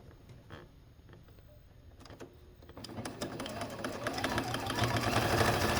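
A sewing machine starts up on thick layers of a vintage quilt, its whir rising gradually from scattered clicks to a fuller, steadier run near the end, fairly faint and close.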